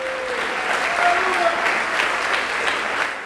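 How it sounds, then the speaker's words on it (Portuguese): Congregation in a church service breaks into sustained applause, a thick wash of clapping throughout with a few faint voices and a brief tonal cry rising early on. "Vamos aplaudir a Jesus"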